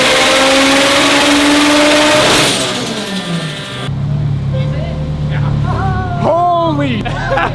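An 1100-horsepower bagged Subaru STI screams at full throttle on a dyno, then the engine drops off and burbles as it falls to idle before rising again in short revs, with loud excited voices breaking in near the end.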